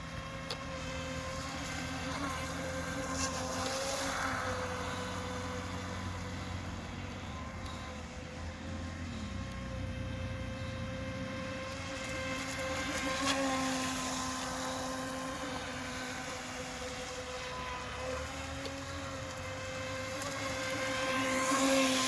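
A Blackjack26 nitro RC boat races across a lake with a camera on board. Its small engine gives a continuous high, buzzing whine that rises and falls with throttle and stays close and loud throughout.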